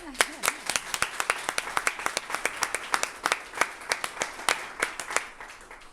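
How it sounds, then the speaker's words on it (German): A small audience at a community talk claps to welcome a speaker, with distinct, separate hand claps in a loose, uneven rhythm that stay sparse and fairly close throughout. "bitte schon einen herzlichen Applaus"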